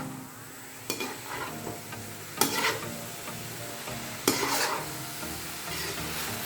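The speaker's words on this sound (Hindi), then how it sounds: "एक बार इस पर चम्मच चला देते हैं।" Spoon scraping and knocking through carrot halwa in a pan, three distinct stirring strokes over a soft continuous sizzle, close and fairly quiet with no talk.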